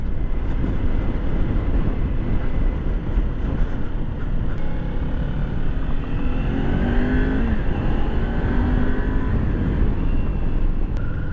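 A Kawasaki Ninja 400 motorcycle engine roars steadily and climbs in pitch as it accelerates, with constant wind and road noise throughout, no talking.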